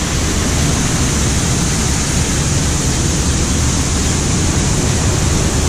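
Waterfalls cascading off rocks beside a boat ride at Europa Park theme park, a loud, steady broadband rush of falling water that holds constant throughout with no pauses.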